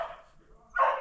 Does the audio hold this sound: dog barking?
yes